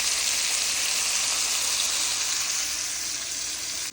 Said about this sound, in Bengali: অল্প আঁচে আস্তে আস্তে করে ভাজতে হবে যাতে প্রপারলি মাছটা ভাজা হয়